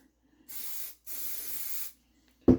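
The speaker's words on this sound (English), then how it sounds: "spray some brake cleaner in there" Two sharp bursts of brake cleaner aerosol spray on a seized Triumph TR6 or Spitfire rear brake adjuster, a short hiss then a longer one, close to the mic, followed by a brief clunk.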